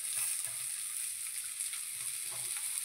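Onion and masala fry in a pan for a village-style egg curry, giving a steady, close, hissing sizzle that holds evenly throughout with no voices.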